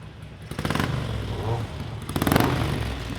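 A classic Ducati motorcycle engine revs on a shop bench while its carbs are synced, two sharp throttle blips rising over a steady rumbling idle, close and fairly loud.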